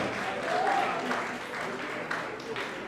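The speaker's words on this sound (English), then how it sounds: "Please, a round of applause for them." Applause for award recipients at a post-COVID heroes award ceremony, a soft, distant wash of clapping in a reverberant hall, steady throughout with faint crowd murmur beneath.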